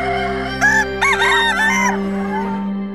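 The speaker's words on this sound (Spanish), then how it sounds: "cuando leen o escuchan el canto del gallo" A rooster crows once, loud and close, in a rising and falling call broken into a few sections, over a steady low background hum.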